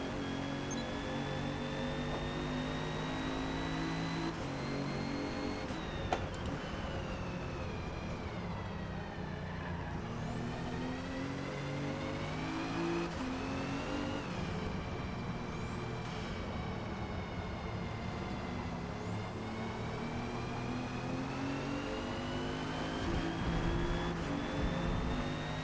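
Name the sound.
2017 Alfa Romeo Giulia engine in Forza Motorsport video game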